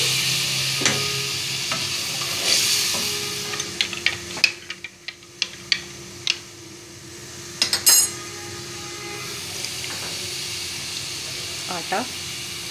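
Chicken nihari stirred in a pot after water and flour slurry go in, a spoon clinking and scraping against the metal in scattered knocks over a soft bubbling sizzle, with a voice talking briefly.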